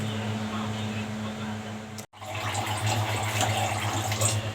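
Rinse water pours steadily out of a pot of washed rice while making rice pudding, a continuous splashing rush at close range that stops briefly midway and then resumes.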